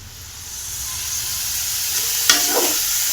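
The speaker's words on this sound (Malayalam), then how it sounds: "ആ പൊരിച്ച എണ്ണ ഒഴിച്ചിട്ട് നമ്മൾ അതിനകത്തേക്ക് ഉള്ളി ഇടുകയാണ്" Crushed onion dropped into hot oil left over from frying fish, a steady sizzle and crackle that swells with a sharp hiss midway and keeps going close up, with no talking.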